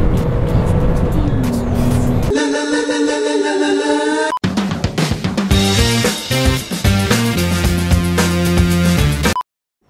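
A Subaru Legacy driven fast, its engine revving loud and close with climbing gear changes, a brief lull between pulls, then a hard, sustained rev before cutting out.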